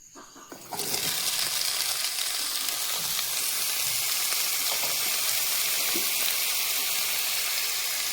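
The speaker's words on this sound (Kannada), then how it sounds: "ಲೋ ಫ್ಲೇಮಲ್ಲಿನೇ ಈ ಮಶ್ರೂಮ್ನ ಫ್ರೈ ಮಾಡ್ಕೊತೀನಿ ರೀ" Cleaned mushrooms in oil with salt and turmeric hit the pan on a low flame. A loud, even sizzle bursts in suddenly and then holds steady and close throughout.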